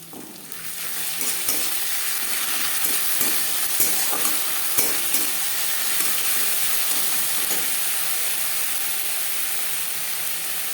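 Chopped onion with ginger paste and green chili paste fries in a pan for omelette curry. A loud, constant sizzle runs close up under repeated spatula scrapes and stirring knocks, with no voices.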